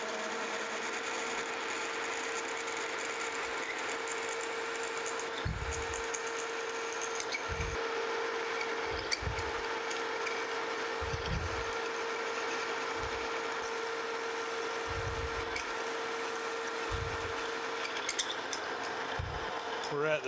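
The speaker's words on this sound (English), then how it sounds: "Switching over to a 5/8 inch drill bit." A 5/8 inch drill bit enlarges a hole to final size in a new metal arbor clamp spacer for a Famco 5C arbor press, a steady machine hum running throughout with repeated low thumps as the bit is pecked in and out.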